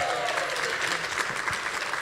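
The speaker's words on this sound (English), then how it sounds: "Give yourselves a round of applause." Attendees at a business summit event applaud themselves, a dense, continuous burst of many hands clapping that fills the room at steady volume, with faint voices mixed underneath.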